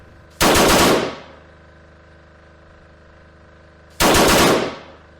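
Two loud bursts of rapid gunfire, a few seconds apart, each a dense rattling volley that fades quickly against a low steady background hum.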